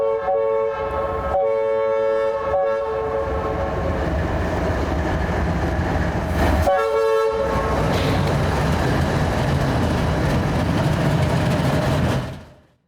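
A train rolls past during a lake effect snowstorm, its horn sounding in loud repeated blasts over the steady roar and rattle of the cars, then fading out at the end.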